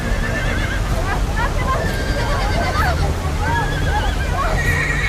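Horses caught in raging floodwater whinny and neigh repeatedly in wavering cries over a constant rushing roar of water, with a person talking throughout.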